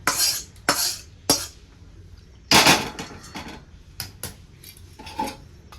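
A few sharp metal scrapes and knocks of a spoon against a kadhai as wheat flour modak mixture is scraped onto a plate, spaced irregularly, close and fairly loud.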